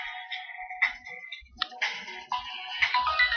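A mobile phone ringtone plays in a quiet room, a bright electronic melody of repeated tones with short pauses between phrases.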